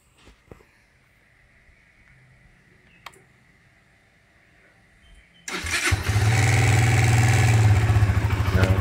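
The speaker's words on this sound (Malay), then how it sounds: "Okay, so kita akan cuba start lah motor ni" A Modenas ZGT motorcycle's engine starts after a quiet stretch with a few ticks, then catches and settles into a loud, steady running idle.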